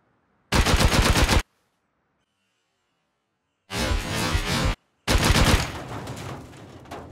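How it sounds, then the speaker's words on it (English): Shotgun trap blasting in the survival game Rust, three loud bursts of rapid gunfire separated by silent gaps, the last one tailing off gradually. "there's a shotgun trap up there. I'm raining fire on myself"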